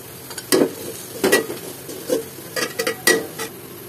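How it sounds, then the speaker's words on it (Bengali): Spices are stirred into a frying pan: a spoon scrapes and clinks against the pan in irregular strokes over a low background sizzle. "এখানে আমি মশলা দিচ্ছি।"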